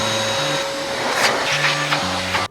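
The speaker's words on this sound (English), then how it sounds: "let me go get my vacuum." A vacuum cleaner hums steadily and loudly up close, with a constant motor whine and shifting low tones as it works, and the sound cuts off abruptly at the end.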